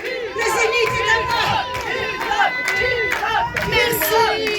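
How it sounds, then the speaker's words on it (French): A concert crowd at a live show cheers wildly, with loud, continuous shouting, whooping and clapping from many people close by and voices calling out throughout. "La foule en délire."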